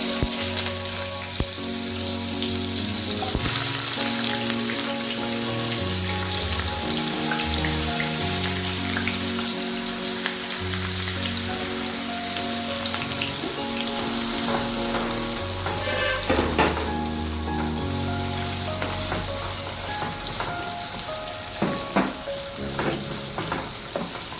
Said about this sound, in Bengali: এবার গোটা গরম মশলা আমি ফোড়নে দিলাম। এরপর এতে আমি পেঁয়াজগুলো দিয়ে দেবো।